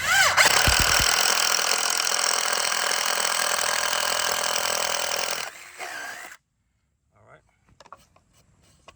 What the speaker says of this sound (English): let's get our 3/4 inch bit, put it on there